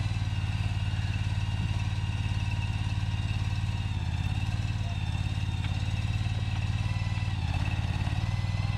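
A small specialized tractor engine idles and chugs steadily with a low, even throb and light mechanical clatter, loud and continuous throughout.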